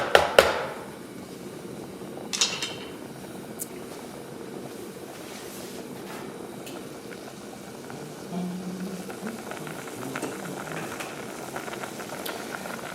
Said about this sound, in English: the rice is boiling very hard.